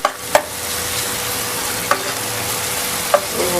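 Ginger garlic paste frying in a pan for chicken gravy: a steady close sizzle with a few sharp spoon taps against the pan.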